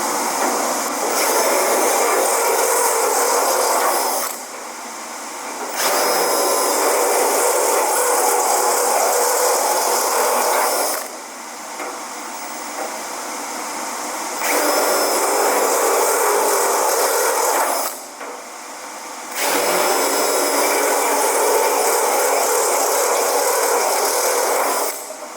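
A specialty drill bit bores holes in steel for 1966 GMC engine bay downbars. The loud, harsh drilling runs in long bursts of several seconds, split by short pauses.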